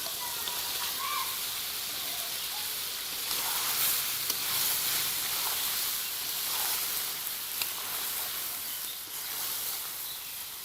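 Chicken pieces and chopped winter melon (ash gourd) sizzle in a pan for a curry, a soft, steady frying hiss with faint crackles and occasional stirring scrapes throughout.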